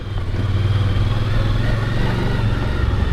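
A dual sport motorcycle engine drones loud and close while being ridden, a steady throbbing rumble with continuous wind and road noise mixed in.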